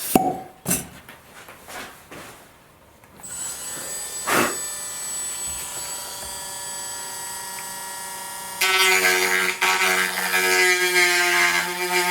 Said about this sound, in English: so I massaged this a little bit more with the Dremel